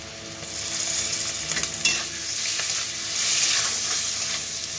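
Chopped chilies and chili powder are stirred in a wok for egg chilli, producing a loud, close, steady sizzle with scraping spatula sweeps that swell toward the end; no talking.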